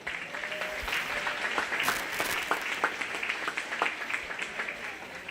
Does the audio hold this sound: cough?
no